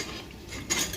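A pressure cooker lid is opened after cooking mutton for biryani, giving soft metallic scrapes and a brief clink close by, with no voices.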